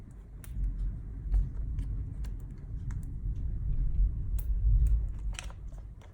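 Deep, continuous rumbling of distant thunder rolls on without a break, with scattered faint crackles and ticks over it. No one speaks.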